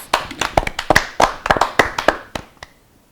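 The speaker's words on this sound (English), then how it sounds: "Let's clap for ourselves." Children in a classroom clap in a short, loose burst of separate sharp hand claps that trail off to a last few isolated claps within about three seconds.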